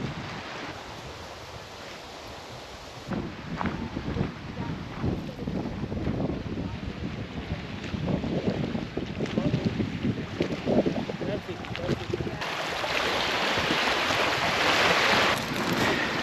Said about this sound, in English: Noticeably windier down at this point than everywhere else